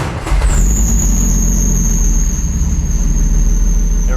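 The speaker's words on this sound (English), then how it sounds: "So we're just gonna quickly see if the engine runs and then we'll turn it back off." A salvage BMW E36 M3 engine fires up and keeps running, a loud, close, steady roar with a thin high-pitched whine over it.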